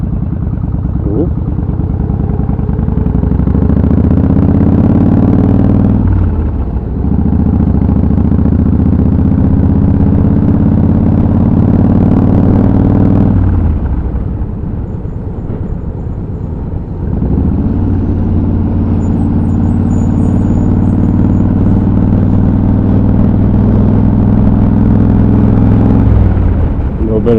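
Traffic passing while riding a Yamaha 1600cc motorcycle, with a heavy muffled engine drone that dips twice as the rider slows and then pulls away again, loud and close throughout.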